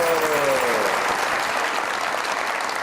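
Dense, steady audience applause filling a televised Eid special transmission as a singer is welcomed, loud and continuous, with the tail of a host's voice fading at the start.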